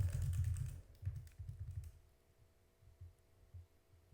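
Quiet clicking of keys on a computer keyboard while coding a JavaScript game, a burst of quick taps at first, then sparser scattered keystrokes over a faint steady hum.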